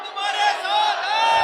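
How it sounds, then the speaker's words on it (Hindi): Crowd at a village political rally in Gannaur shouting slogans together, a loud sustained massed roar of voices with no pauses, close and filling the space. "दिल से दोनों हाथ उठाकर पूरे गूंज से नारे लगाने हैं"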